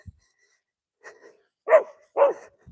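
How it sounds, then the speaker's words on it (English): A dog barks twice in quick succession at a horseback rider in the suburbs, fairly close and loud, after a softer yip and a brief whimper, with silence between. "So those dogs barking at you?"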